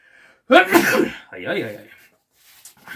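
A single loud, close sneeze bursts out sharply and trails off into a brief breathy tail, heard in a quiet indoor workshop while woodworking pieces for a handle and knob.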